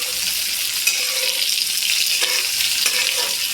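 Okra sizzles and crackles in hot oil for a Marathi stuffed masala bhindi, a steady close frying hiss with faint stirring scrapes and no voices.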